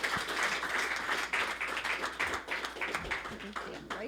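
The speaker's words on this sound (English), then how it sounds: "So round of applause for Sue." An audience at a church gathering claps for a woman named Sue, dense steady applause filling the room for several seconds with a few sharper claps.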